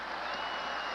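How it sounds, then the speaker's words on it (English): Celebrating crowd on the field at Milwaukee's County Stadium after the Brewers' 1982 ALCS Game 5 win, a steady wash of cheering and applause throughout this brief moment. "The crowd remains in celebration on the field at County Stadium in Milwaukee"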